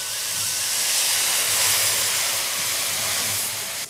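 Mustard seeds and soaked peanuts, with turmeric, spluttering in hot tempering oil for curry leaf rice: a steady, dense sizzling hiss that holds loud and close from start to end, with no voices.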